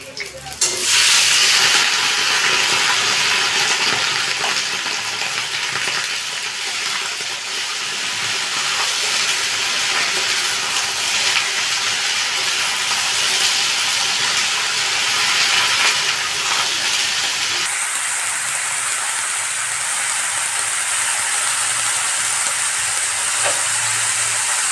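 Fried eggplant and other mixed vegetables sizzle in a pan with a loud, steady, close hiss that shifts in tone partway through as more vegetables are added, with no talk.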